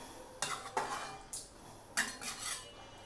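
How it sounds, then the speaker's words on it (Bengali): Meat for tehari stirred in a cooking pot, a spoon scraping and clinking against the metal in about five separate strokes, close and fairly quiet, with no talking. "মাংসটা একটু নেড়ে চেড়ে দেব।"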